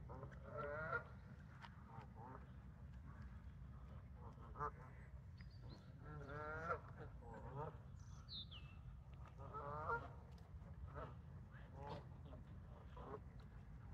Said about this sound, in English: Some of our Canadian geese friends has come to say hello, expecting me to feed them.